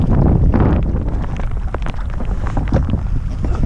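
Wind roars steadily across a lake during a hailstorm, buffeting close and loud for a few seconds with no voices.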